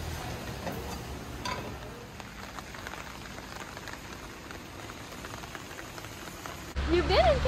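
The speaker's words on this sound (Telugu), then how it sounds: "యాక్చువల్గా వర్షం ఫుల్ దంచుకొచ్చేస్తుందండి." Heavy rain pouring down in El Valle de Antón, Panama, a dense steady hiss of drops on surfaces heard close and fairly loud throughout, with a brief louder burst at the very end.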